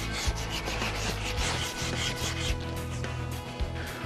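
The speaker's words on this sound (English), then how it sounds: "Once you have the area buffed up with the that sandpaper, which is the 100 grit" A boat's rub rail on a Boston Whaler is sanded with 100 grit sandpaper, a continuous close, harsh rubbing rasp in quick back-and-forth strokes throughout, with no voices.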